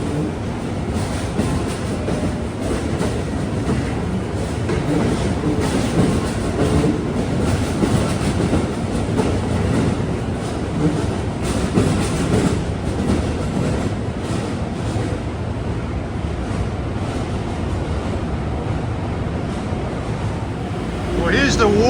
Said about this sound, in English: is train 94 from Norfolk to Boston. Off to a rather slow start.